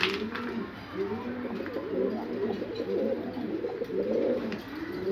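A flock of Egyptian pigeons coos in repeated soft, rolling low calls, close by and continuous, with faint background noise.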